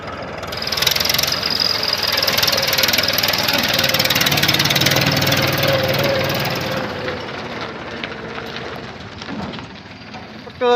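A farm tractor engine runs with a steady, loud, rumbling drone close by, holding constant for several seconds before easing off toward the end.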